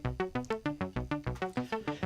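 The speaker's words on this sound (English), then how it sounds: "What you hear now is a sequence which is generated by the 8 knobs of the sequencer" Doepfer modular synthesizer running an eight-step sequence set by the sequencer knobs, with repeating pitched notes retriggered steadily by the clock, each note decaying before the next, about six per second, clear and alone.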